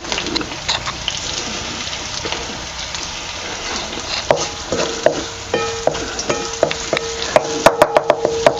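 Garlic frying in oil in a pan over a village wood-fired stove, a steady crackling sizzle that builds into sharper pops and spatula clicks toward the end, close and fairly loud.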